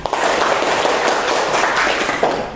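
Classroom pupils clap their hands together in a steady, dense burst of applause that fills the room evenly from start to finish, with no talking over it.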